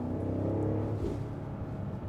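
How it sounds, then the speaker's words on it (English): A 2024 BMW X5 M60i LCI SUV in sport mode rumbles steadily from inside the cabin, its low engine drone carrying faint artificial exhaust burbles underneath. "We have some little burbles here"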